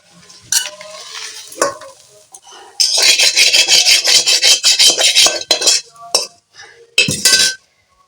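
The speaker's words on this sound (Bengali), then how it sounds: "আলুটাকে ভালো করে নাড়াচাড়া করে নেব" Potatoes being stirred in a hot pan with mustard oil for a Bengali potato dish, heard as a steady run of scraping, sizzling strokes with a few metallic clinks, close and fairly loud.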